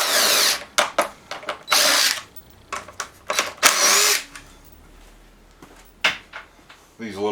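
A power drill backs screws out of the top cover of a small lawnmower, several short high whirring bursts separated by pauses, close by, with clinks and handling noises between them.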